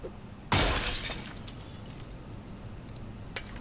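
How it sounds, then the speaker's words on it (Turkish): A window pane shatters in the zombie survival game Project Zomboid: one sharp, loud crash of breaking glass, then a scatter of tinkling shards and fainter clinks fading over a few seconds, with no voices. "Ben de camı kırayım"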